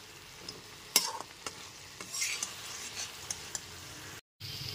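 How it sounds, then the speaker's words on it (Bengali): Ginger paste being stirred into hilsa fish-head and Malabar spinach greens in a pan over a medium gas flame: soft scraping strokes with a couple of sharper knocks against a low sizzle, a brief gap near the end. "গ্যাসের ফ্লেমটা মিডিয়ামে রেখে আদা বাটাটা দিয়েও খুব ভালো মতো মিশিয়ে নিচ্ছি"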